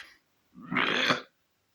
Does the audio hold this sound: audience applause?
no